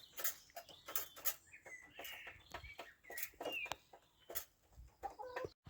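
Chickens cluck and squawk in a coop fitted with a watering system, with several birds calling in short overlapping bursts close by and no talk.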